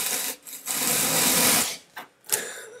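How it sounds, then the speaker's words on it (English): A hand saw cuts through a block of styrofoam in quick, close rasping strokes with a squeaky texture, one long pass followed by a couple of shorter bursts. "I will try with the saw."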